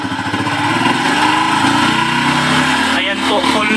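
A motorcycle engine runs as its carburetor idle screw is adjusted: a loud, steady buzzing drone with slight pitch shifts, close to the mic, while someone talks over it.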